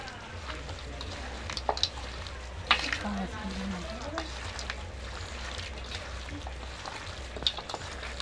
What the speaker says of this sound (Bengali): দিয়ে দেবো কাশ্মীর লঙ্কা গুঁড়ো এবার খুব ভালোভাবে মাখিয়ে নেব